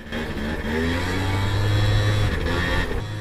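A motorcycle exhaust drones while riding in traffic near Zapote, a steady close engine hum that swells slightly in pitch as it accelerates, with no speech.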